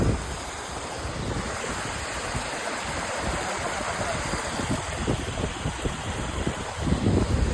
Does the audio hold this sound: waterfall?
yes